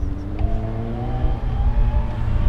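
A steady high-pitched ringing whine from an e-bike mid-drive motor rings over low rumbling road and wind noise, rising slightly in pitch, continuous throughout.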